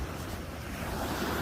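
Sea waves wash onto a beach, a continuous broad roar of surf mixed with wind buffeting the microphone, steady and fairly loud with no voices.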